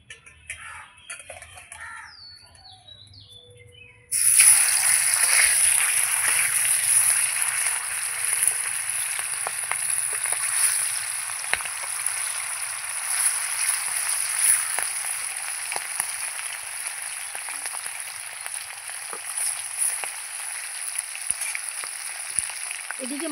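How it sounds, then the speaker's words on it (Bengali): Fish pieces dropped into hot oil: after a quiet start, a sudden loud sizzle begins and stays steady, with fine spattering crackles and pops throughout. "আমার তেলও গরম হয়ে গেছে, এবার আমি এক এক করে মাছগুলো ভেজে নেব।"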